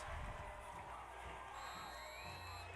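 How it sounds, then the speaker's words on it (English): A high school basketball crowd at Mount Baker Mountaineers vs. Nooksack Valley Pioneers cheers wildly in a gym, a dense roar of shouts and whoops heard from a distance, with a faint whistle-like tone near the end. "Crowd is going nuts."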